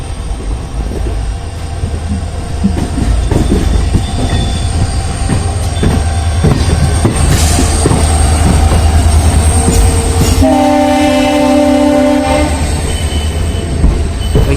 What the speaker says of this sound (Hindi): काठगोदाम शताब्दी, जो कि प्लेटफॉर्म 1 पर जा रही है।